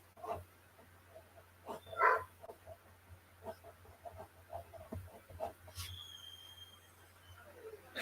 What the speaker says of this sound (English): But my dog is really whining.